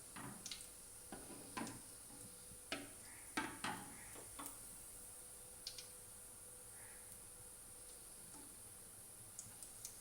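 Cumin seeds crackling in a pan of hot oil while making dhaba-style masala bhindi: scattered faint pops and sharp ticks spread unevenly over a quiet, steady sizzle, with no talking.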